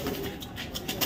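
A pigeon coos softly at a pigeon farm, a brief low warbling call heard close up against a faint background hum.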